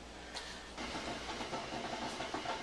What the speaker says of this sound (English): if you hear a little bubbling in the background, that's my coffee maker.